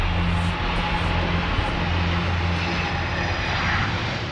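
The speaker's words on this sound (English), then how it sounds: "The pilots make their final descent into Broughton, and the massive plane touches down," An Airbus Beluga cargo plane touches down on the runway at Broughton, a loud, steady engine roar with broadband rumble filling the scene throughout.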